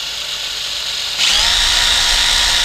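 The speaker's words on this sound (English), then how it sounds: "drill a tiny little hole in it so we can start it off" A power drill whirs up partway through after a quiet start, running steadily and close at a high, loud pitch, drilling a tiny starter hole for a screw in a Mercedes door panel.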